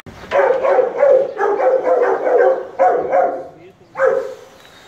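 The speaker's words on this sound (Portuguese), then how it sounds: "Tá aí a cachorrada." Several dogs bark together in a close, overlapping chorus, the noise running steadily with a short lull before a final burst.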